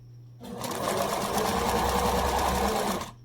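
A sewing machine runs steadily for about three seconds, stitching fabric for a homemade face mask, the motor whirring loud and continuous before stopping abruptly.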